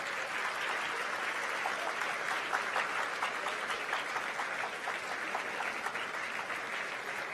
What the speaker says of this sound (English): keep the applause the loudest